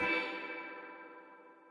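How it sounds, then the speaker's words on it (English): A synthesized tone run through a ping-pong reverb delay effect starts at once and slowly fades into a long, shimmering wash. It is quiet and heard alone. "ping-pongy reverb."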